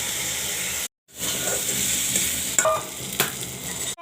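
Cumin seeds hit hot oil in a pan of potatoes being fried with turmeric and chili powder, giving a loud steady sizzle and hiss, broken by a brief silent gap and a few sharp crackles.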